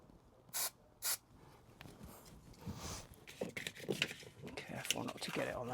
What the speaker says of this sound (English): Now we need to spray this bit.